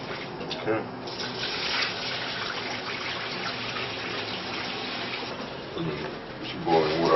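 Tap water runs steadily into a sink as pork spinal bones for soup are rinsed, a continuous close gushing splash that swells louder near the end, with no talking over it.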